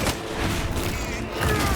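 Gunfire in the video game Space Marine 2, a quick rattling burst of bullets with booming impacts over a dense game soundscape, lasting under two seconds.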